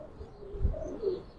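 A pigeon of a Bengali Giribaz or Army breed coos softly in a short, faint low murmur at a loft, with no talk.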